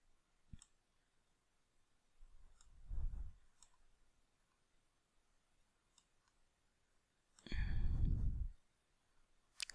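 A computer mouse clicks a few times, sharp faint ticks scattered between short bursts of a person talking quietly nearby.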